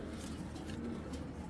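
Pigeon cooing faintly among caged breeding pigeons, a low soft coo under quiet background noise, brief and distant-sounding.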